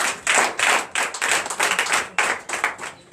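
Hands clap together in a rhythmic beat at a Sunday church service, with loud, evenly spaced bursts like a group clapping in time.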